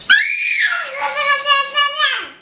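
A young girl at dinner lets out a long, loud, high-pitched playful scream right up close, with a few wavering pulses before it trails off.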